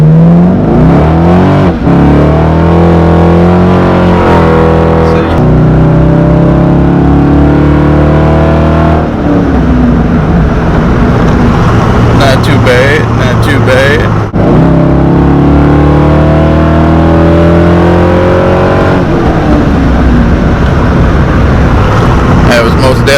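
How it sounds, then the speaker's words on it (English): An old Corvette engine revs and accelerates hard, its loud rising drone climbing through several gear pulls with brief drops between shifts, close and continuous. "Yeah, the old Corvette gets up and goes."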